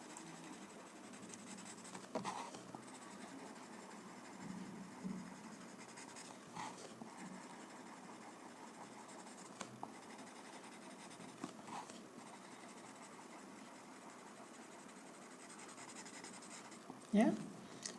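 Pencil shading on paper while drawing a tangled coaster design, a steady soft scratchy rustle of graphite across the sheet lasting throughout, close and quiet, with a few small taps and a sharper knock near the end.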